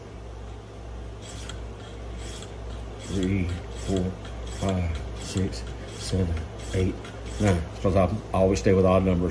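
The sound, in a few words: knife blade strokes on KME sharpening system stone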